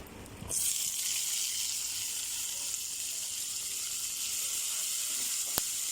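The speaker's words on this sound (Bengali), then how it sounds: "অল্প হালকা ভেজে নিব সসেজগুলো" Sausages fry in a pan with a loud, steady sizzle that surges in abruptly after a brief moment and holds evenly throughout, close by, broken once near the end by a single sharp click.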